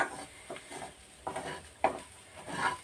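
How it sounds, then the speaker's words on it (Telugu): Chana dal and thinly sliced green chilli being stirred in a pan, a few soft scraping strokes with a faint sizzle underneath, close and moderately quiet. "చక్కగా ఇలా సన్నగా కట్ చేసి ఇలా వేసేసి తిప్పేసుకోవాలన్నమాట"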